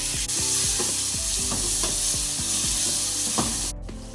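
Spices, ginger powder and chopped tomato sautéing in a pan for a Kerala curry, with a steady loud sizzle and repeated stirring scrapes in an uneven rhythm, close up and with no talk.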